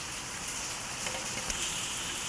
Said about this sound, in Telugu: మాకైతే ఇక్కడ వర్షం వస్తుంది